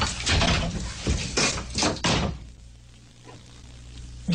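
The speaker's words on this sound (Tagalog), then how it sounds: "Lakas na mamuksara ng pinto." A door slams shut hard with a heavy thud, followed by a muffled rumble and a dull knock in an indoor room, with no voices heard.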